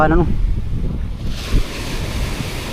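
Strong northeast monsoon wind roars across the sea with waves surging and crashing nearby, steady buffeting wind noise on the microphone throughout and a brief louder gust or wave hit midway.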